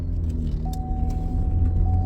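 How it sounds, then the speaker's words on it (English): A car drives by close up with a steady, loud engine and road rumble, a faint tonal hum running through it. "watch out. There's a car."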